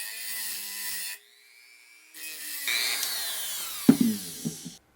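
Small rotary power tool cutting notches into a brass collar on a 1934 Grunow 501 tube radio, high whining bursts with a pause, then grinding contact and a few sharp scraping hits.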